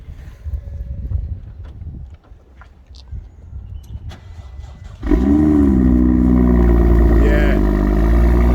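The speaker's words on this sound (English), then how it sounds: "Now that's what a car is supposed to sound like." A BMW M2 engine fires up after some rustling and faint talk, settling into a loud, steady, rumbling idle with a slight rev.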